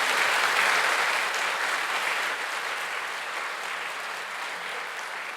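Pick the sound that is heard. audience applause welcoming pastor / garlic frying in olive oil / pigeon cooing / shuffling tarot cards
audience applause welcoming pastor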